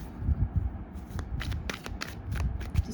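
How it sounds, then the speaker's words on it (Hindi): Tarot cards are shuffled and drawn by hand, giving soft close riffling and papery flicks in a quick uneven run of short snaps, with a faint low rustle underneath and no talking. "let's take out few more cards"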